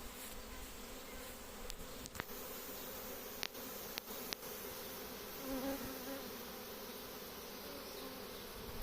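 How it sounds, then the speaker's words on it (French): Swarm of honeybees buzzing in a dense, steady hum outdoors, near and continuous, broken by a few sharp clicks and knocks. "je vais souffler sur les abeilles au sol"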